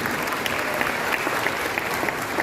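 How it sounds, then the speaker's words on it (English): A large conference audience at the Africa Prosperity Dialogues applauds the first female African Union Commission chairperson, with dense, sustained clapping that stays loud and even throughout. "please, a round of applause."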